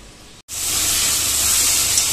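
Spice paste for a chicken dish fries in a pan with green chillies, a loud, close, continuous sizzle that bursts in after a brief silence and holds steady.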